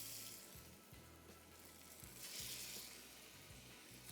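Fish pieces sizzle on a slightly scratched grill pan, a faint steady frying hiss with soft intermittent crackles and low clunks underneath, no voices.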